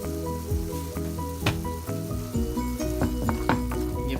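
Leftover injera with spiced butter and salt stirred in a pan, a steady sizzle under repeated scraping and clinking strokes of the utensil, close and fairly loud, with no one speaking.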